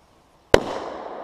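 A single sharp, loud bang from a plastic bottle bomb erupts after a second of near silence, followed by a lingering hiss and rumble that slowly fades.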